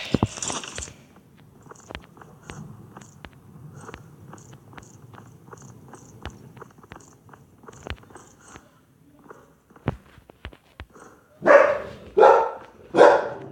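A dog barks sharply several times, scattered clicks and snaps, then three loud close barks in quick succession at the end.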